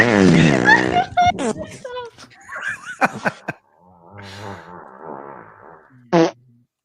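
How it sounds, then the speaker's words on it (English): A fart sound played from a clip of a dog being farted on, a loud burst followed by snickering and laughter, with voices talking. "This is a dog getting farted on."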